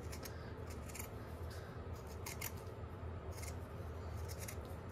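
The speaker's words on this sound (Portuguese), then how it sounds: "eu amo esse barulhinho de tesoura cortando" Scissors snipping through a flower made of jute and twine during a craft session, giving a steady run of crisp, close cuts with short irregular pauses and no talk.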